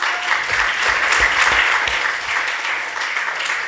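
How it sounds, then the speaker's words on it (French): Listeners at an artist talk with Miguel Barceló give a warm round of applause for thanked foundation people, steady, close clapping with a few low thumps early on and no speech. "Un grand applaudissement pour eux."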